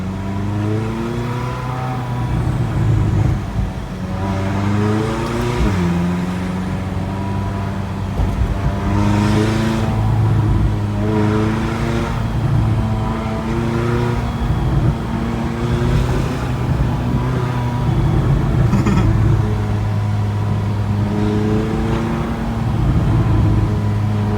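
A McLaren 570GT's engine while driving, loud and close from inside the cabin, its pitch climbing and dropping in repeated rising sweeps as it accelerates and shifts, a continuous throaty drone throughout.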